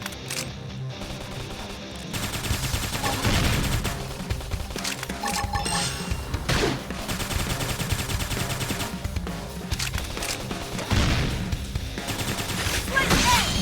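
Rapid gunfire in the video game Xenoblade Chronicles X Definitive Edition, bursts of automatic shots layered with music and combat effects, continuing loud and dense throughout.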